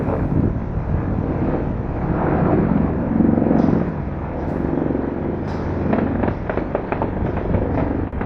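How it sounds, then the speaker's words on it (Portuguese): Gunfire heard from a scene with military helicopters in Mexico, sharp cracks and pops rising over a constant rumbling, wind-buffeted roar, with a cluster of shots in the latter half. "Aí se ouvem tiros"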